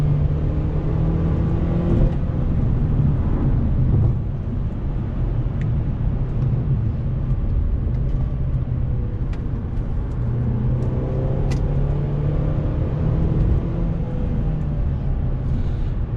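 A 2017 Mercedes-Benz C300 4MATIC drives steadily, its engine droning close and loud throughout with small pitch changes as gears shift, with no talking.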